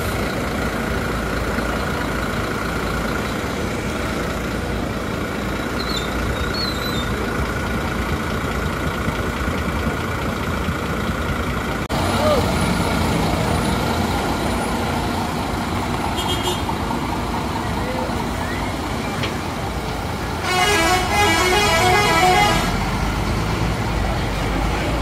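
Agung Sejati bus engine rumbling steadily at low revs as it departs, a moderately loud drone with brief louder bursts near the end.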